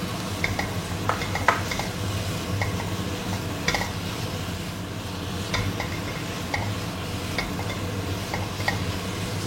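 Fried tempe tossed into a hot pan for a tempe curry spaghetti dish, with a steady close sizzle of frying under repeated scraping and clinking of a utensil stirring against the pan.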